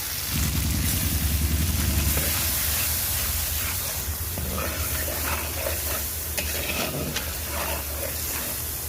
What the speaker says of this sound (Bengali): এই যে নারকেলের দুধ দিয়ে কষিয়ে নেব মশলাটা